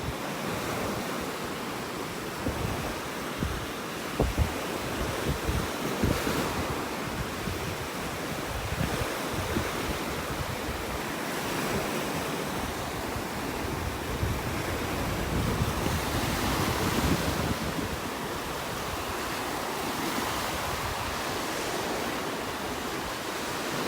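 Churned-up surf breaking steadily on a North Naples, Florida beach on a morning with mist in the air, a continuous loud roar of waves with gusty wind buffeting the microphone and no voices.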